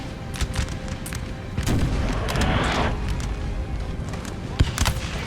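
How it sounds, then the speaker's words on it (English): Massed French artillery booms in a Napoleon: Total War battle, dense overlapping cannon fire and crackling musketry rolling continuously, with a heavier burst midway and a sharp close report near the end. "French artillery just pounding the enemy away."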